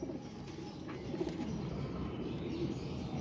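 Pigeons coo softly and steadily amid low outdoor rumble, with a few faint chirps, as captured pigeons are shown off at a loft.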